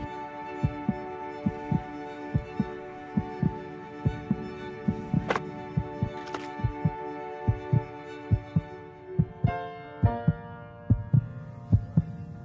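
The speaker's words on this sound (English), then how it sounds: "This song was created with heartbeats of children in need." Heartbeats recorded from children, used as the rhythmic pulse of a song: steady double thumps repeat throughout over a sustained musical hum and tones, with no voices.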